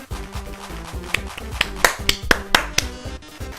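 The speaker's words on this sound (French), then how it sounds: "Un tonnerre d'applaudissements pour ce fabuleux humain qui sera notre candidat." Applause in the video game Undertale, a burst of sharp clapping and snapping hits over a musical backdrop, rising into a few louder cracks toward the middle before thinning out.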